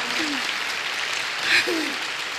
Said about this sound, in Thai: ปรบมือยาวๆเลยนะคะ